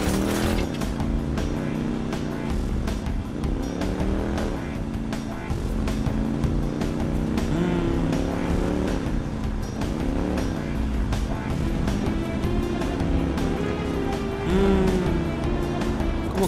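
Motorcycle engine in the Watch Dogs video game, a continuous revving drone that rises and falls over several seconds, with game traffic noise mixed in.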